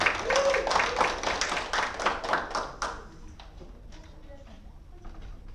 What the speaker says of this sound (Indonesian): Tepuk tangan buat Mbak Cici.